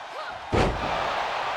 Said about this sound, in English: Slamming Sonia Nitro down with a scoop slam.